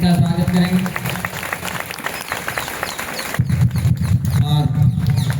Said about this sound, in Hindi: हम सभी जोरदार ताली बजा करके इनका स्वागत करेंगे।